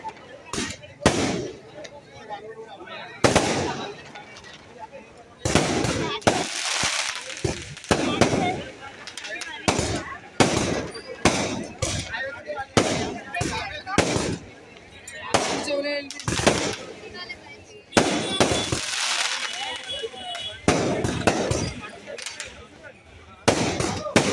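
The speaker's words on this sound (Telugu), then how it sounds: "ఫస్ట్ అయితే క్రాకర్స్ చూడండి" Firecrackers burst during a neighbourhood Ganesh immersion procession, a long irregular run of sharp cracks and crackling rattles, some loud and close, with gaps between volleys and a crowd audible underneath.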